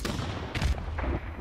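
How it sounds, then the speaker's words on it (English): Rapid gunfire bursts in a two-on-two multiplayer shooter match, short sharp cracks packed tightly together over about a second, fairly close. "He's firing. Why is he firing so fast?"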